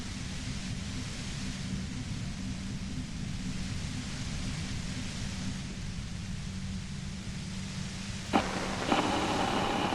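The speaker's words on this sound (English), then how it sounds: "The explosion of static you're hearing" A pale latitude compressor in Disco Elysium blasts ULAN-frequency radio static: a loud, steady wash of hiss over a low rumble that holds throughout, then shifts abruptly near the end.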